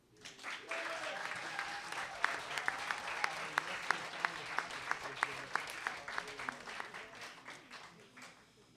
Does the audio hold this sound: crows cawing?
no